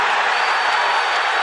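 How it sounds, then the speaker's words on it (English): A boxing arena crowd on its feet roars and cheers in a steady, loud wash of voices during a toe-to-toe exchange between fighters, with no clear single speaker standing out. "Crowd on their feet."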